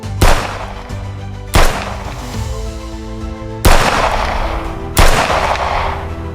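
Four sharp, loud gunshots ring out alone, spaced unevenly across a few seconds, each with a long echoing decay on an open beach.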